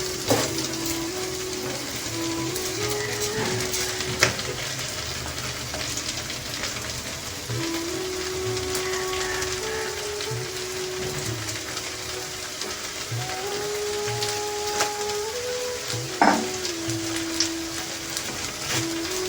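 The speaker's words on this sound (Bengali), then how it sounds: "এটি ভালোভাবে নেড়ে নেব" Washed rice being stirred and fried in a small pan for a veg paneer pulao, giving a steady crackling sizzle with scraping stir sounds throughout.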